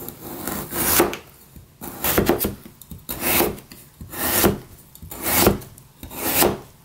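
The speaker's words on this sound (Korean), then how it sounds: "약간 굵게 채 썰어서 하는 거 보여드리겠습니다." Radish is cut by knife into thick strips about 0.5 cm wide for bossam radish kimchi. Six evenly spaced, close, rasping slicing strokes land roughly once a second on a board, with no talk.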